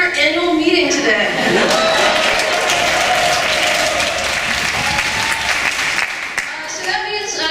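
Loud, sustained applause from a church congregation during a service, continuous for several seconds with some voices mixed in before it fades slightly at the end.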